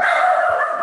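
A pet dog lets out one short, loud, close bark, a single sharp yelp with no talk over it.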